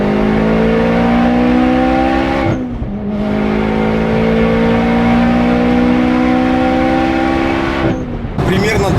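A 420 hp Audi S4 B5 accelerates hard, its engine note climbing steadily in pitch through two gear changes with brief dips between pulls, loud and close, with some talk under the engine.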